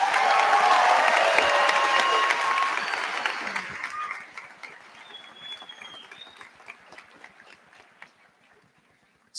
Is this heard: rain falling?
no